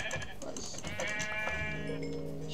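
Sheep in a video game bleat repeatedly, with several overlapping bleats in a steady run over a busy background of game sounds.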